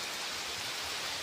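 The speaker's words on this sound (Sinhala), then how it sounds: "වහිනවා මේ." Rain falls steadily outdoors, a soft, even hiss of dense drops with no distinct individual hits, fairly faint and with no voices.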